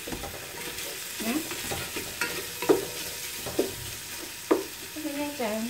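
Ingredients for a Thai chicken gaeng om curry are stir-fried in a pot, with a steady sizzle punctuated by repeated scraping and clanking of the utensil against the pot at close range.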